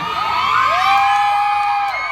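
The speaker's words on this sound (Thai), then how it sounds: "เสียงกรี๊ดนี่คือแฟนคลับป้าแหม่ม" Fans at a live New Year 2016 show scream and cheer in a loud, sustained, high-pitched chorus that swells and holds across the whole moment.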